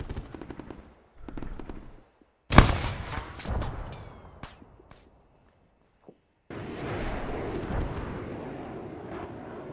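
Frag grenade detonating in a combat video game, a single sharp loud blast followed by decaying rumble and debris, with a later stretch of steady dusty noise.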